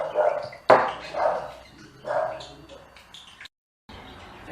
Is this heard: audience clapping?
no